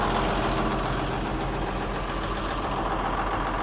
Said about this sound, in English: Out driving grain cart all day,